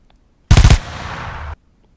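A short, loud burst of rapid gunfire, about four quick shots followed by a brief rattling tail, demonstrating a rapid muzzle flash effect, alone against near silence.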